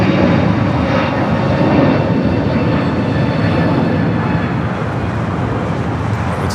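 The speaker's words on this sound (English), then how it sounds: "Flight 2A1 touching down to 4 right there on the north side." An airliner touches down on runway 4 right on the north side of LAX, a steady loud broadband jet roar holding constant throughout with no talk.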